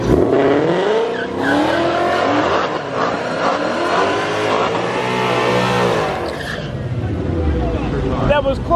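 A Mamba car racing a 900-horsepower Shelby GT500, with loud, close engine roar that rises and falls through hard acceleration and gear changes and brief tire squeal, continuous for several seconds while voices are heard over it.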